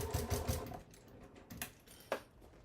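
A home sewing machine stitches a fabric bag gusset with a size 16 needle. It runs in a short, close, rapid whirring burst, then gives a few sparse mechanical clicks.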